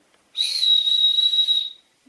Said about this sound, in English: with it also comes a whistle